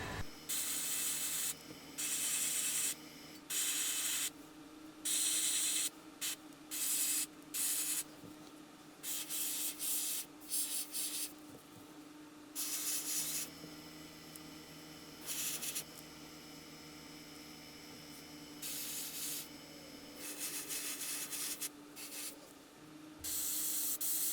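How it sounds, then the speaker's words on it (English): Repeated bursts of hissing spray paint on a fishing lure, on and off in short and longer blasts, with light mechanical clicking and rubbing between them. "I'm going to spray the inside of our little diamond shape there"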